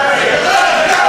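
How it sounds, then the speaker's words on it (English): A wrestling crowd at an independent pro wrestling show roars and cheers steadily for a wrestler, a dense, loud, continuous wall of voices with no break. "The crowd is firmly behind the Juggernaut"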